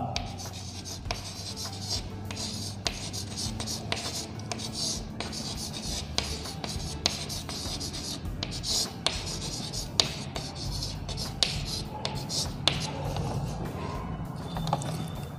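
A pen writes an address on paper in Hindi, producing continuous close scratching and scraping strokes with small taps and pauses between words, under a faint background hum.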